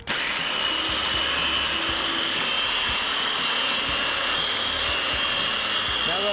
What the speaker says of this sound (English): you want to move the polisher back and forth in the crisscross pattern